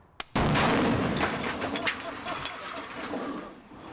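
A sudden loud explosion blowing open a safe booms out and rumbles on, followed by a long crackling, debris-filled tail that slowly fades.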